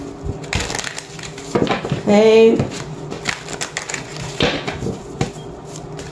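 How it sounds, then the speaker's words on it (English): Tarot cards being shuffled by hand in quick, repeated riffling bursts, close and fairly loud, with a voice speaking briefly between them. "I'm just shuffling my cards."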